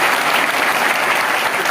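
Steady, dense applause from a large audience at a political rally in Haryana, loud and continuous throughout with no break.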